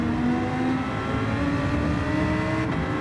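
A race car in Gran Turismo 7 accelerates hard out of a corner under full throttle, its engine a loud, sustained high-pitched drone that holds steady and close for the whole stretch.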